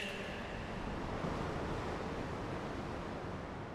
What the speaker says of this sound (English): you hear that breeze?